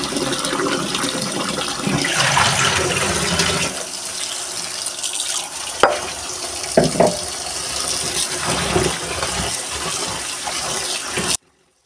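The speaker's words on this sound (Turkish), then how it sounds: "Şöyle bol suda şimdi yıkayalım. Şöyle sudan alıp yıkamamız lazım ki içinde kum," Plenty of running water gushes steadily from a tap while something is washed to remove sand and soil, a loud continuous splash with brief clunks and handling noises, then a sudden cut to silence at the end.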